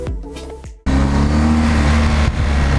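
BMW R 1250 GS motorcycle engine running loud and close, a steady droning hum that starts abruptly after a brief quieter stretch and holds for a couple of seconds.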